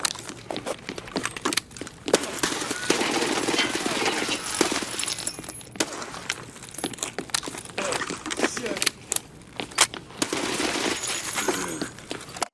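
Rapid bursts of MP9 submachine gun fire in the Escape From Tarkov shooter game, with dense, fast crackling volleys and sharp individual shots spread through a busy, loud mix of gameplay noise.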